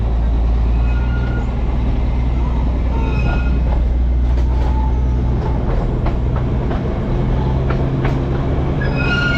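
The Darjeeling toy train moving uphill on the Gayabari jungle route, heard as a loud, continuous rumble of rolling wagons with rattling and occasional faint wheel squeal throughout.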